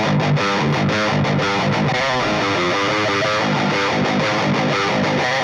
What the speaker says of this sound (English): There is actually an overdrive pedal here as well, which is a Horizon Devices precision drive